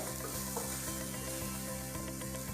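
Onions fry in a pan for chilli chicken, giving a steady close sizzle with occasional stirring scrapes, heard alone without talk.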